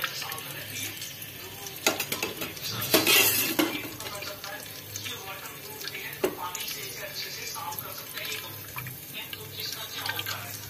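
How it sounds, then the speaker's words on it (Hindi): Cooking oil poured into a pan while preparing yakhni for pulao, giving a soft liquid pour with light sizzling and scattered clatter amid steady kitchen noise. "ये देखिए, मैं इसमें डाल रही हूँ तेल।"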